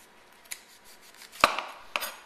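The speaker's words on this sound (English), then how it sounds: "I'm going to take my knife, a smaller knife, and kind of cut through the rough part here" A small knife cutting through the soft, rough skin of an Asian fruit on a board, giving a few faint, crisp ticks and scrapes spaced apart, close and quiet.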